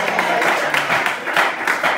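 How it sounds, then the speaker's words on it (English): A church congregation clapping during a sermon, a steady wash of many hands applauding together, moderately loud and continuous with faint voices mixed in. "Clap your hands if you believe that."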